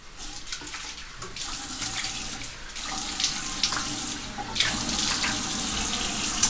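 Cold water running from a tap into a sink for a face wash, a steady close splashing hiss that grows stronger partway through, with brief spatters as the flow shifts.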